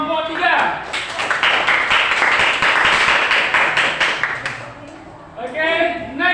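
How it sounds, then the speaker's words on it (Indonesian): A classroom group gives about four seconds of steady clapping for a student presentation group, with speech just before and after the applause. "Kasih aplaus buat kelompok 3."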